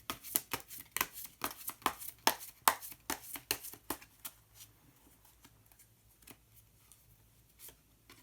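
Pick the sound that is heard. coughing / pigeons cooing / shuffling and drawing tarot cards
shuffling and drawing tarot cards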